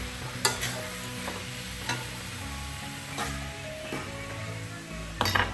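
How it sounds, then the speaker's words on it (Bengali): Soaked flattened rice with chopped ginger being stirred in a pan, a soft steady sizzle under repeated scraping strokes of a spoon and a few light clinks against the metal, close and without talk. "এটার মধ্যে একটু আমি আদা কুচিয়ে দিয়েছি, দিয়ে এখন এটা আমি ভালোভাবে নেড়ে নেব।"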